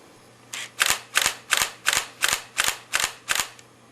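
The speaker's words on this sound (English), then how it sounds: "the A300 shoots slightly faster at 3 frames per second, and here's how that sounds" Eight rapid mechanical shutter clicks from a Sony Alpha A300 DSLR fire in a steady continuous-shooting burst, about three per second, crisp and close with no talking.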